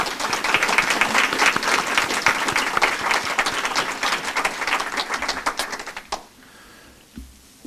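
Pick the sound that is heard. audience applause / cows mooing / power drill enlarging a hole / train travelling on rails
audience applause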